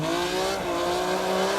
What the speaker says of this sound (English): You hear the car squealing?